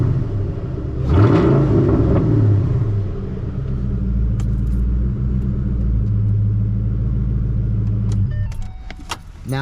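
A Ford Mustang 3V engine with stock headers and a muffler and resonator delete revs up sharply then settles into a deep, loud idle rumble, with some jangling near the end.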